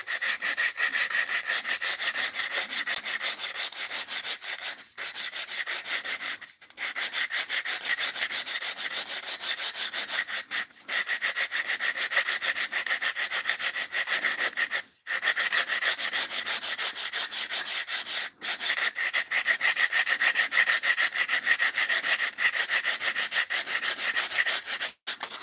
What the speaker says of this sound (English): Let's go for a coarser sandpaper on this guy.